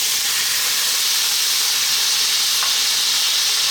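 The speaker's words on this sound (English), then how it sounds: "What we're going to do now is add our potatoes." Potatoes dropped into hot oil with cumin seeds sizzle loudly and steadily, a dense close hiss of frying with no voices over it.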